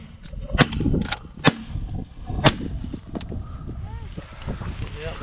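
Shotgun blasts ring out while duck hunting in New Zealand's North Island, several sharp close reports in quick succession over wind noise, with people talking.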